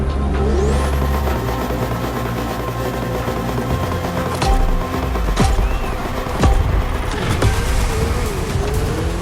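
Ferrari and Red Bull race cars roar around a circuit in The Crew Motorfest, a steady loud engine drone broken by several quick whooshing pass-bys and revving surges.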